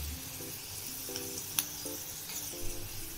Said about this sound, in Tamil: இங்க பாருங்க எவ்வளவு கிறிஸ்பியா ஃப்ரை ஆயிட்டு இருக்கு